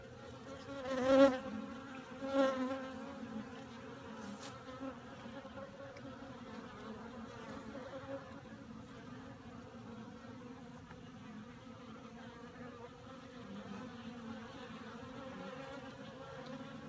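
Honeybees gather and buzz around a caged queen bee, a steady soft drone close by with two brief louder passes as bees fly near, then a continuous low hum.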